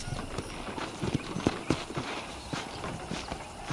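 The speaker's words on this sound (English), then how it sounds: "let's see if you can still ride a horse" Video game sound from Red Dead Redemption: rhythmic clip-clop of horse hooves at a steady gait, close and clear over a faint ambient bed, with no talking.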